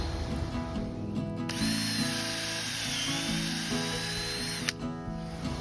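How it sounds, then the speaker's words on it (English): Power drill boring a hole into a tree trunk with a wood bit, a close, high whine that holds steady for several seconds, then stops abruptly near the end. "when you're drilling into the tree, how far to go"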